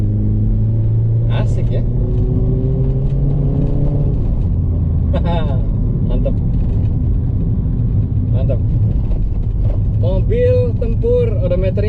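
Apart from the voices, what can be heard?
Honda Freed 1500cc engine with aftermarket KNN filter and muffler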